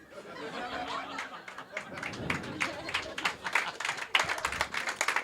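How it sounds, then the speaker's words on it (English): A comedy club audience laughs and then breaks into applause that swells into dense, lively clapping, with chuckles and scattered voices mixed in. "Applause break."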